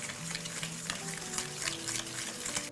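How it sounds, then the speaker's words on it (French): Melted butter, sugar and cocoa powder being stirred for chocolate brownie batter, a steady close-up scraping and swishing of thick mixture in a bowl, continuous and unbroken throughout. "Et on mélange à nouveau"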